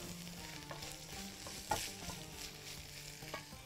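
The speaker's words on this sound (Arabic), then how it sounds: "شويه من البصل، هنبدا ايه نقلب كده تقليبه حلوه" Onions stirred in a hot pan, a steady low sizzle of frying with scraping stir strokes and a sharper clatter near the middle, close and alone without any voices.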